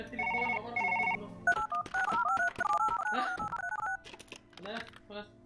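A telephone in a virtual reality doctor game gives two short electronic ring bursts, then a run of warbling tones with clicks and thumps from handling, and a voice talks briefly near the end.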